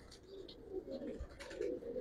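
A Giribaz pigeon from an old Dhaka loft gives soft, throaty coos in short repeated phrases, faint and close, with no talk over them.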